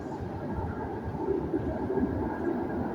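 Glasgow Subway outer circle train approaching the platform, a deep steady rumble and low wheel roar building gradually as it draws nearer through the tunnel, with no talk.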